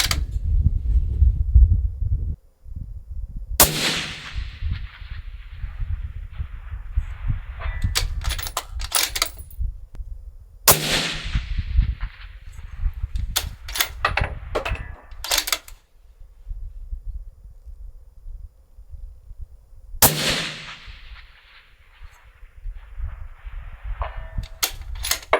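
A budget 6.5 PRC rifle build firing 143 ELD Hunter ammunition at steel silhouettes: three sharp, loud reports spaced several seconds apart, each trailing into a fading echo, with mechanical clicks between.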